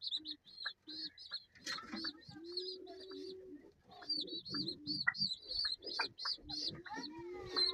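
Young pigeons peep in rapid, squeaky bursts close by, mixed with low, drawn-out cooing.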